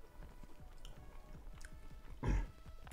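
Crunchy rotisserie chicken skin being chewed close up, a steady run of soft crisp bites and mastication with one louder crunching bite near the end, over a low background hum.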